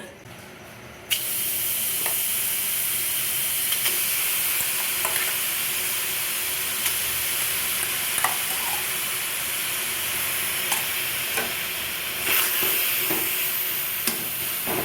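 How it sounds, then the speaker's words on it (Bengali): Mango that has been cooked with melted sugar is stirred in a wok while its water cooks off. A constant close hiss runs underneath, with light scraping clicks from the stirring at irregular intervals. No one talks. "এবার আমি কড়াইতে আমটা দিয়ে দেব"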